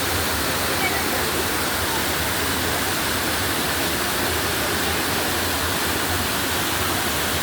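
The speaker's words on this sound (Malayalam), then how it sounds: "ഗംഭീര വ്യൂ. അരുവിക്കുഴി വാട്ടർഫോൾസ്." Aruvikuzhy waterfall in Kerala, a forested cascade near Kottayam, pours with a steady, loud, broadband roar that does not change throughout, with no other sounds standing out.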